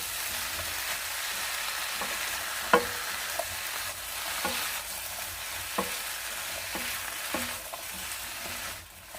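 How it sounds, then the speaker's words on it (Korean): Shiitake mushrooms stir-frying in a seasoning sauce in a pan over medium heat, giving a steady soft sizzle with occasional sharper clicks and scrapes of stirring, no voices. "이렇게 표고에 양념장이 다 입혀지면서 이렇게 익혀지는 과정이거든요"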